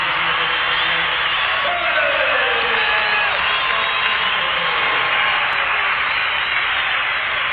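Basketball crowd at Boston Garden during a 1995 Lakers at Celtics game keeps up a dense, continuous roar of cheering and whooping, loud and unbroken throughout, with voices rising and falling within the din.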